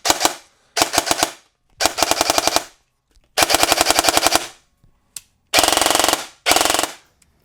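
A KWA MOD 2 airsoft AEG fires in repeated sharp bursts of rapid, snappy shots, several bursts of one or two seconds each with short silences between them, loud and close.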